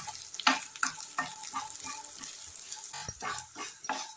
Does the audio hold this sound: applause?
no